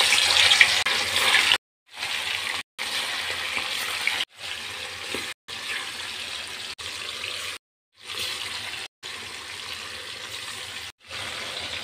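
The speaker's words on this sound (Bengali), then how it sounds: "আমি ম্যারিনেট করা মাংসগুলো ভেজে নেব।" Marinated meat frying in hot oil, a loud close sizzling crackle that runs in bursts with several short silent gaps between them.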